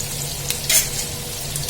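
Onions frying in a pan for a spicy aloo veg pulao give a steady, close sizzle with a brief louder crackle and faint utensil clinks.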